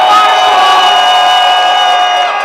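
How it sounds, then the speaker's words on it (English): An outdoor crowd at a Minneapolis democracy rally cheers and whoops loudly for the marshals, a dense, sustained roar of voices. "a huge round of applause for all our marshals who go on the streets"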